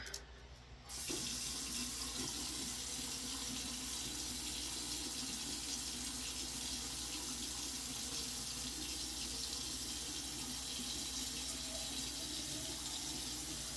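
A bathroom tap runs steadily and fairly loud, a continuous gush of water into a sink that starts abruptly and carries on without pause, with no talk.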